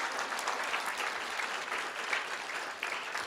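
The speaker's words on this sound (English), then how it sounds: "Let's give them another round of applause." Steady applause from an audience at a school district board of trustees meeting, a continuous dense patter of many hands clapping at moderate volume for several seconds with no talk.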